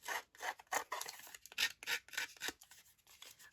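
Paper edges being buffed and scuffed by hand to soften a neatly cut edge, giving repeated short dry rasping strokes in an uneven rhythm, close and fairly quiet with no talking.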